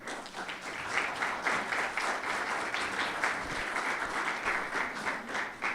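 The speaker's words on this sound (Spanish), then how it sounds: "pido respetuosamente un fuerte aplauso" Audience applauding a speaker at an evening historical chroniclers' gathering in Nuevo Laredo, Tamaulipas: steady, dense clapping from a room of people, moderately distant and sustained throughout without a break.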